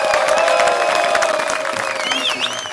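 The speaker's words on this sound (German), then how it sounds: "für diese geleistete Arbeit haben sich meine Kollegen auch einen Applaus verdient" Loud crowd applause and cheering at a ski test week award ceremony in Sulden am Ortler, clapping mixed with whoops and shouted voices, including high whistle-like cries toward the end.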